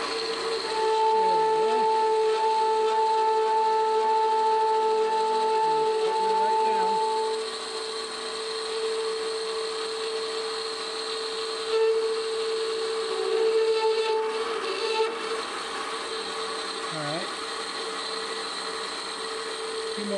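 Metal lathe turning a part for a miniature steam engine, a steady motor hum and tonal whine running throughout with occasional light scraping of the cut, close, and someone talks briefly over it.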